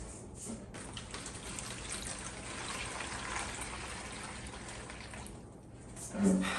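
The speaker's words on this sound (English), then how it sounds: "I like to put them in a seed tray, and I like to fill it with water" Water poured to fill a seed tray for clearance plants, a steady close splashing gush running throughout, easing slightly near the end with a brief thump.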